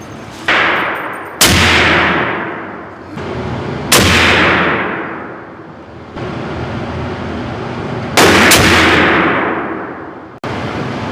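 Rifle shots fired with 215-grain .30 caliber Berger Hybrid bullets from a Seekins Havak PH2 in an MDT ACC Elite chassis: four loud, sharp reports spaced a few seconds apart, each followed by a long rolling echo that fades out.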